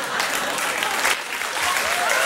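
A studio audience breaks into loud, dense applause that holds steady, a continuous wash of clapping with some crowd noise mixed in.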